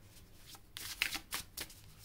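A slippery, finely made deck of cards is shuffled close by in several quick riffling bursts, soft but distinct, with no speech.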